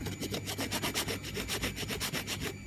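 A metal spoon scrapes benzine-soaked paint stain off work fabric in quick, rhythmic back-and-forth rasping strokes, about a dozen close scratchy passes with no talking.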